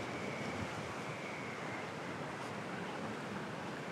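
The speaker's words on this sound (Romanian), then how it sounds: "Mă scuzați, ne-a cam bătut vântul." Wind blows steadily across the beach at Balchik on the bay, a continuous broadband roar that stays loud and even for the whole stretch, with no voices.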